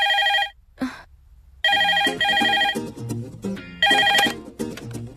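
Telephone rings in repeated electronic bursts, bright and fairly loud, with brief gaps between them and some background sounds mixed in.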